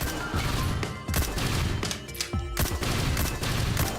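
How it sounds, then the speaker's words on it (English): Grenade launcher fire in the Risk of Rain Returns video game: a rapid run of punchy, booming shots with sharp explosive hits, loud and continuous with brief gaps. "the longer range with the grenade launcher is pretty slick"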